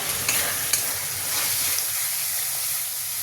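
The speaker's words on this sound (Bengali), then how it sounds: "মশলাটা ভালোভাবে টমেটোর সাথে মিশিয়ে নেব" Tarka masala being stirred into tomatoes in a hot pan for vegetarian tarka, a loud continuous sizzle and hiss with scraping spoon strokes, close up and without talk.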